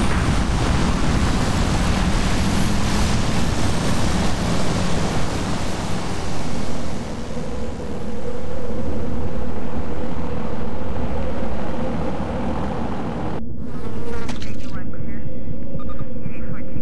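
A transport aircraft lifts off in the Warzone 2100 video game, a loud steady broadband roar of engines and rushing air that holds for most of the time before cutting to a quieter, thinner texture near the end, with speech over it.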